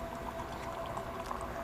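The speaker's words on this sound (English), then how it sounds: "Open it up and pour them both in." Two parts of a liquid compound are poured together into a container, giving a steady, close splashing and gurgling pour with no talk during the pour.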